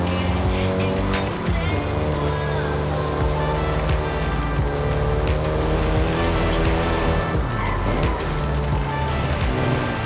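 Volkswagen Golf GTI hot hatch driving in Forza Horizon 5, a steady, loud engine drone with shifting pitch and gear changes, continuous with no talk.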